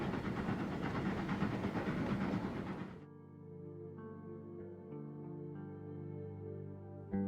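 A Southern Pacific commute train from 1955 near San Francisco heading toward Tunnel 5 gives a loud, close hissing roar for about three seconds, then settles into a steady droning hum of layered engine tones that shift in pitch.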